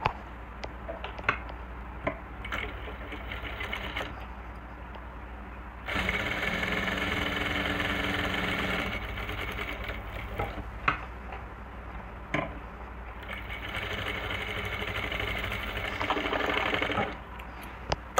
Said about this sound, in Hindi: तो इसके यहाँ से और ऐसे सिलाई लगा देंगे।